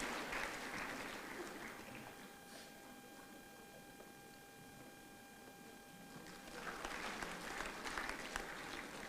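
Audience applause at an international nursing conference at Sharda University, a soft, distant patter of clapping that fades in the middle, then swells again near the end, over a faint steady electronic hum.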